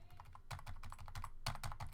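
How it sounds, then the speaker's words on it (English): Keys on a mechanical keyboard pressed in a quick irregular series of close, crisp clacks with a hollow, resonant body tone, quiet and without speech. "when I press down a key, see, I get that kind of, resonant feel, or not feel, sound"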